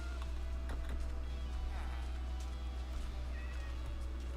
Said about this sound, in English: Geez, you're both white kitties.